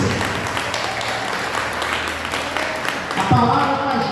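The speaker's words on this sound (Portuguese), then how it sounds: "Vamos aplaudir o Senhor." A church congregation at a Wednesday evening service applauds, a dense, continuous wash of clapping from many people filling the room, with a voice rising briefly near the end.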